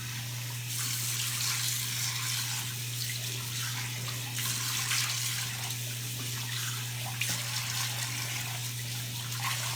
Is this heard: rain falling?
no